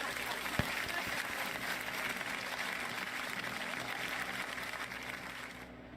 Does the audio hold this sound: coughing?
no